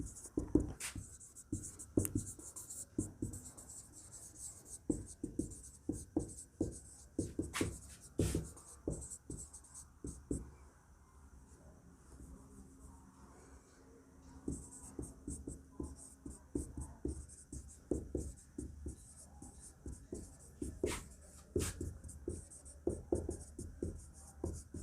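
Marker or chalk strokes tap and scrape across a board during a maths lesson on multiplication, a busy rhythmic series of close, sharp writing sounds with a quieter pause midway.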